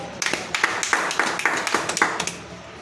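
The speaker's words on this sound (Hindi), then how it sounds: "इसके लिए एक ताली होना चाहिए।" A small audience claps for an herbal remedy called the king of herbs, about a dozen irregular, fairly close hand claps over a few seconds with no talk.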